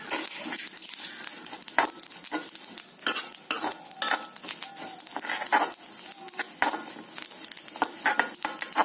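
Cumin seeds dry-roasting in a pan, stirred briskly with a utensil, giving dense rapid scraping and rattling with a light sizzle and sharp clinks against the metal.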